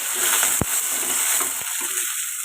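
Green chillies and chopped onion fry in hot oil, a bright continuous sizzle up close with a couple of sharp utensil knocks against the pan.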